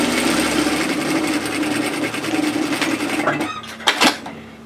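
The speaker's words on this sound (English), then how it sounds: "Fold them in half lengthwise, and then stitch a seam at 1 centimeter, which is 3/8 of an inch." A sewing machine stitches a 1 cm seam along folded belt-loop fabric for a woven kimono robe, running in a fast steady whir up close, then slowing and stopping with a few closing clicks.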